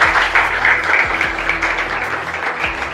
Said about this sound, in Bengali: ঋত্বিকার জন্য একবার জোরদার হাততালি।